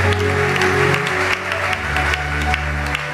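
Church congregation applauding together, a dense steady clapping wash under sustained organ or keyboard tones, with music carrying on throughout.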